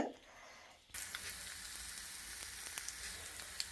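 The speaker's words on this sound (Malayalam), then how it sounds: "തേങ്ങ വറക്കാൻ ഞാൻ അടപ്പത്ത് വെച്ചേക്കണത് ഒരു ഗോൾഡൻ ബ്രൗൺ ആകുന്നത് വരെ നമ്മൾ വറക്കേണ്ടതുണ്ട്" Grated coconut roasting in a pan on the stove, a steady crackling sizzle that starts abruptly after a quiet first second and keeps going close and even, with no talking.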